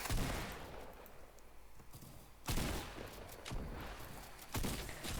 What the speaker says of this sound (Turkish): Adam vuruyor arkadaşlar.